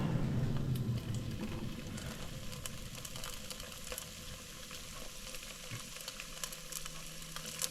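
Budget supermarket food roasting in a hot pan, a steady soft sizzle and crackle with faint spitting pops, heard close and alone throughout.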